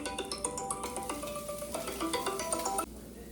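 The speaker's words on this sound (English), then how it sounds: "Sorry about the phone ringing." A mobile phone rings in a home kitchen during lasagna preparation, its bright repeating electronic tones sounding steadily for about three seconds before cutting off abruptly, with no talk over it.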